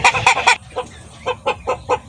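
A chicken clucks in a quick burst of three, then a series of short, evenly spaced clucks follows, close and fairly loud.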